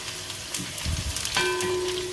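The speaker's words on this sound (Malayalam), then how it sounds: "നമുക്കിനി ഇത് നന്നായിട്ട് കടുക് വറുക്കാം" Hot oil sizzles and crackles as mustard seeds pop and spatter in a pan, a busy close-up frying noise with a faint tonal hum.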